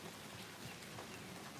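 Rain falling outside a front porch, a steady dense patter of drops on surfaces, even and faint, with no voices over it.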